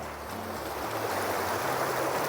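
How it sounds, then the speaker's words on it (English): Water in a stream flows in a soft, steady rush and gurgle, close and unbroken, with faint low thumps underneath and no voices. "you're listening to the water"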